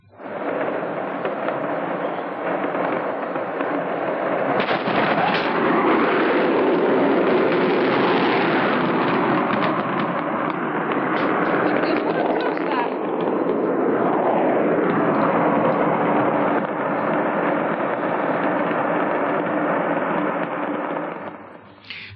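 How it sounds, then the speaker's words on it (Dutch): A fireworks depot disaster explosion captured in amateur footage from a house some distance away, a long loud roaring rumble of blasts and crackling that swells and continues for over twenty seconds, with no talking. "gisteren hebben we al gezien hoe groot de klap was van de explosie"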